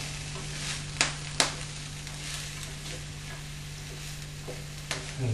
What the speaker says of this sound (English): keep stirring it all around, make sure everything's got little bits of olive oil on it